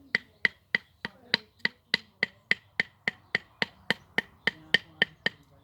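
A steady series of about eighteen sharp wooden knocks from a wooden log used as a hammer, evenly spaced and crisp, each a hard thud of wood striking wood up close.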